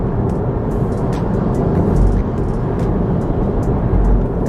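Steady low road rumble of a car cruising on a highway at night, a continuous close engine-and-tyre drone with slight swells and no talk over it.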